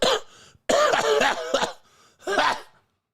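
A voice imitates an old man clearing his throat: three loud, gravelly throat-clearing bursts with short pauses between them, close and alone without talk.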